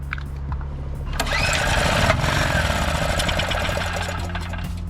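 An abandoned Generac GP3300 portable generator that won't start, primed with starting fluid and suspected of a carburetor fault, is cranked up close, giving a loud, rattling, chugging engine burst that sputters for several seconds without settling into a clean run.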